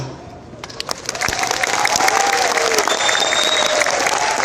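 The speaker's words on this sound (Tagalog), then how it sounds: "Magpalakpakan ang lahat na nagagandahan sa boses niya." A crowd at a convention event breaks into loud applause mixed with cheers, starting quietly and swelling into sustained clapping, with voices underneath.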